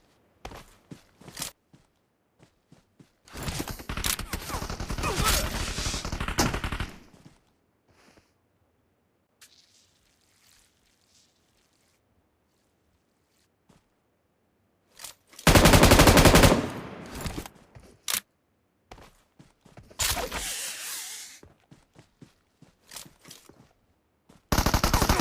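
Gunfire in the mobile battle royale game PUBG Mobile comes in loud bursts of rapid shots separated by quiet stretches, with some softer footsteps between.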